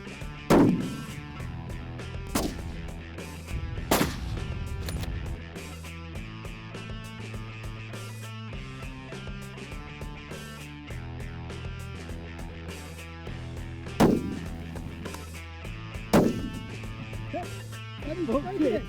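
Rifle shots at a firearms training range in Wales crack out as several loud, sharp reports spaced seconds apart over a constant background hum and murmur.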